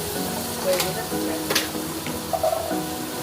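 Prawn and taro leaf paste being stirred and dried in a frying pan, a soft steady sizzle with a few scraping clicks of the spoon, heard under a person talking.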